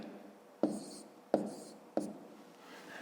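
Pen strokes write numbers by hand on paper during a subtraction exercise, with three distinct tapping strokes spaced evenly over a faint scratchy background, close and quiet.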